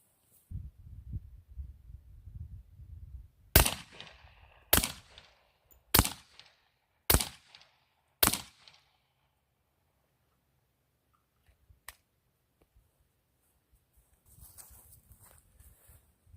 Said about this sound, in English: we got the Glock 20 with the long configuration Hybrid 46M